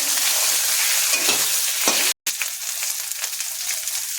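Crushed green chillies and chopped tomato hit hot oil and sautéed spice paste for a vegetarian cabbage ghonto, giving a loud, steady close-up sizzle with faint stirring scrapes and one brief dropout.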